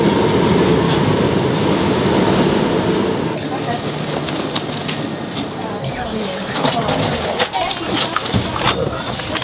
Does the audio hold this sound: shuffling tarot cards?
no